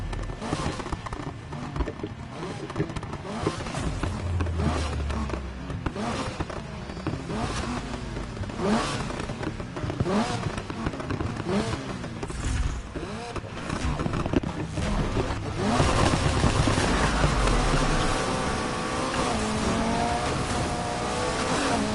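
A Lamborghini Countach in the racing game Need for Speed Heat revs and roars continuously, with loud engine tone rising and falling, tire squeal and a brighter, higher pitched surge toward the end.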